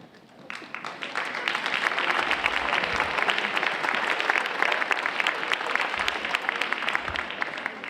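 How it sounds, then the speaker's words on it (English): Audience at a school performance applauding a fourth grade group, swelling quickly after a half second into a dense, sustained, even round of clapping that holds loud throughout. "Could we please have another round of applause for the amazing job of the fourth grade group?"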